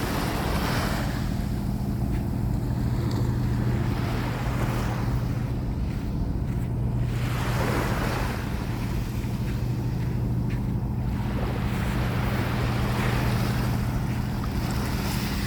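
Sea waves wash onto a rocky shore, a continuous rushing surge with rolling swells and heavy wind buffeting the microphone, steady and loud throughout with no voices.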